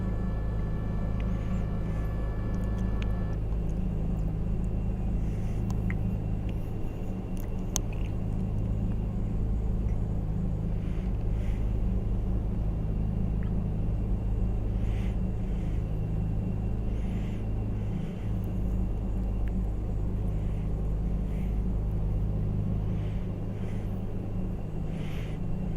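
In the X-Plane 11 flight simulator, an Outback EV-55 twin-engine aircraft taxis off the runway to a continuous low engine rumble and drone with a faint whine on top, steady throughout and without talk.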